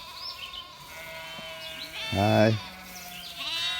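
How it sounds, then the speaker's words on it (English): One of a neighbour's sheep wandering in a backyard near an antique barn lets out a single loud, close bleat partway through, with a man's brief greeting and quiet outdoor ambience around it. "all of Mark's sheep are in my backyard"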